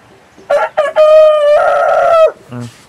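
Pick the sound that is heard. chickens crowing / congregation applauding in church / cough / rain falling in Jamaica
chickens crowing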